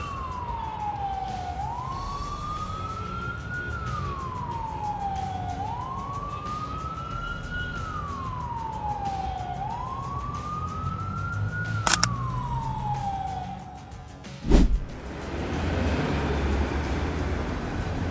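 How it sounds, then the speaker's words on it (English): A police car's wailing siren rises and falls in slow repeated sweeps during a night pursuit, loud and near over road noise, then cuts off, followed by a sharp thud and a broadband whoosh. "A police car pursued and successfully stopped both drivers at the side of the road."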